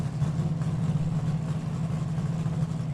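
An A fuel dragster engine idles at Byron Dragway with a steady, rough low rumble, continuous and fairly close, no one talking.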